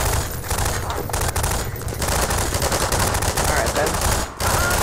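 Rapid automatic gunfire from the video game Half-Life 2, loud sustained bursts of machine-gun fire with a short break near the end, filling the whole stretch with dense crackling shots.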